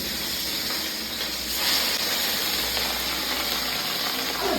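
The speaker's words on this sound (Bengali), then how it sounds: "মাছটা আস্তে আস্তে ভেজে নিচ্ছি" Katla fish pieces frying slowly in hot oil in a pan, a continuous close sizzling hiss that holds steady and grows slightly louder partway through, with no talk over it.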